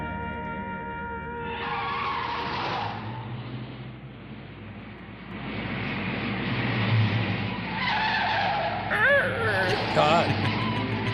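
A car in an old classic horror film skids, its engine roaring and tyres squealing in a long, loud stretch that rises toward the end with sharp squeals over the driving noise.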